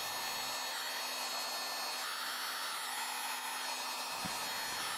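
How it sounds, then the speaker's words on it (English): A heat gun softens craft adhesive so a stencil can be peeled from a woodworking camping sign, giving a steady loud blowing roar with a low hum that runs through the whole stretch. "I used a heat gun to soften the craft adhesive and peel off the stencil"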